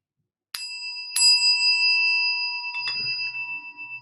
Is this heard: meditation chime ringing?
yes